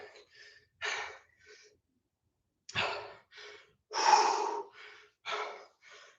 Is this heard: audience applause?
no